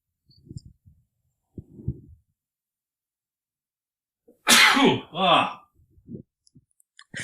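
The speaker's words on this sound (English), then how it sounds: "Sorry, I had a sneeze." A loud, close sneeze bursts out in two sharp blasts, followed by a few quiet breaths and small vocal sounds, with brief soft talk before it.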